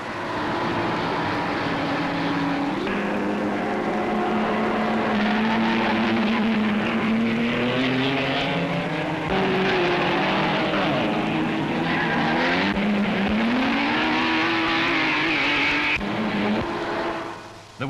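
A field of 42 racing cars roaring through the international trophy race at the Brooklands circuit, engines whining and shifting pitch as they pass, loud and continuous with overlapping revs and no talk.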